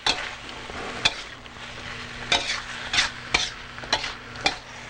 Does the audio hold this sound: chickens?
no